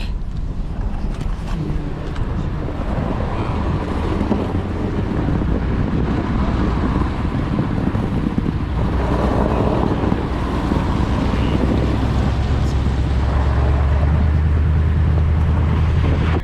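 An off-road overlanding vehicle crosses a small creek in Michigan's Upper Peninsula. Water sloshes and rushes steadily under a constant engine rumble and wind buffeting the microphone, with no talk.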